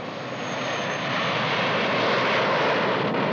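A military aircraft engine in flight gives a steady, loud, broadband roar that holds even for several seconds, with no speech over it.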